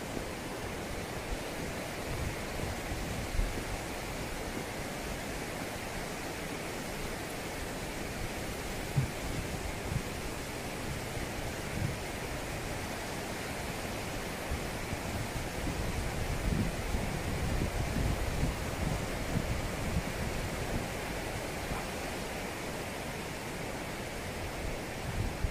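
Ryuzu Falls in Oku-Nikko, where the water pours toward Lake Chuzenji, heard as a steady, broad rushing roar with no break, continuous and fairly even in loudness.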